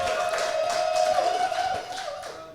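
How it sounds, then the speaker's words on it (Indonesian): Small group clapping for a guest named Abrar on an Indonesian football talk show, a scattered patter of hand claps that fades toward the end, with a steady tone running underneath. "Tepuk tangan buat Bang Abrar dulu"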